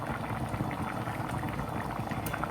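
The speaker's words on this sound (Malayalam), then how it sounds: "10 മിനിറ്റ് നല്ലോണം തിളച്ചു" Rajma curry bubbles at a rolling boil in a pot, with a dense, steady gurgle and popping close by and no voices.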